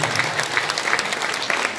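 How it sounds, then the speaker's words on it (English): An audience applauding after a naath recital competition performance, steady, dense clapping from a crowd, loud and sustained throughout. "I want to raise everyone and just give a huge round of applause once again."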